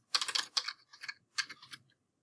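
Quick bursts of keystrokes on a computer keyboard as a search is typed, three short clusters of close, crisp clicks separated by brief pauses.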